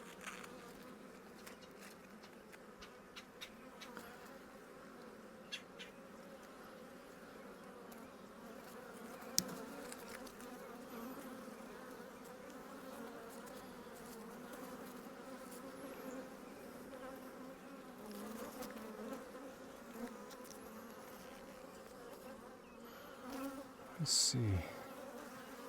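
Honeybees from an opened hive hum in a low, continuous drone during a hive inspection, faint and close, with a few light knocks and a brief spoken remark near the end.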